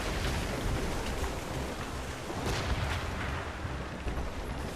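Naval cannons boom aboard a sailing warship in the video game Assassin's Creed Rogue, several heavy blasts rolling into a dense, rumbling roar of battle noise with no clear gaps.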